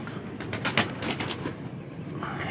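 Pigeons coo softly over a steady background hiss, with a brief flutter of wings partway through and no voices.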